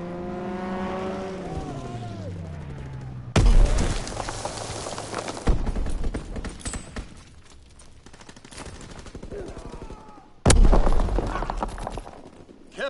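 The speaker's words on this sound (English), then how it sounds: "Enemy strafing run inbound." Explosions and rattling fire from an enemy strafing run in Call of Duty WW2 crash in two loud, sudden bursts between quieter stretches of distant battle noise and a falling tonal whine.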